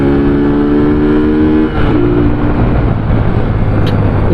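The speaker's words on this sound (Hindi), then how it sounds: "तो आप खुल के थ्रॉटल देते हैं।" A vehicle engine revved with open throttle on a winding mountain road in Azad Kashmir, a loud, close, sustained roar that holds a steady pitch, dips briefly, then carries on droning strongly without any talk.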